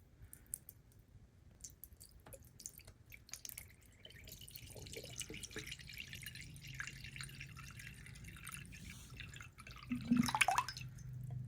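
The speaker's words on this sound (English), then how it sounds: "So once I unscrew this cap on the reservoir to let some air in, yeah, now we're starting to see it drain out." Water drains from a hardline PC water cooling loop into a bowl once the reservoir cap is opened, heard as quiet scattered drips and clicks that build into a fuller, louder trickle near the end.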